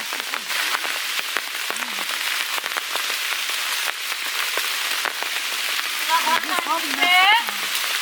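Small fish frying in a pan during village-style cooking give a steady, close sizzle with crackling pops, while a voice talks faintly over it.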